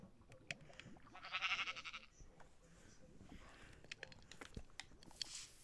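Sheep bleating in the Minecraft video game on Xbox, a short burst of bleats over faint footsteps and other soft game noises, fairly quiet throughout.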